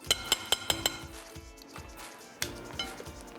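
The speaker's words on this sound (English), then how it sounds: "I always like to do the last little bit of mixing by hand" Pizzelle batter being mixed by hand in a bowl, opening with a quick run of sharp utensil clinks against the bowl, then softer scraping and a couple more taps.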